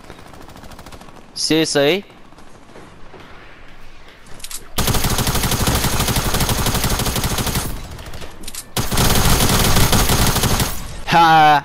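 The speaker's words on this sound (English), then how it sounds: "I was shooting at a guy" Tac SMG fire in Fortnite comes as two long, loud, rapid automatic bursts with short gaps between them, and a player speaks briefly in between.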